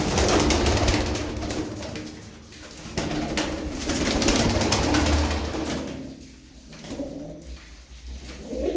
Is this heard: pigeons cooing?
yes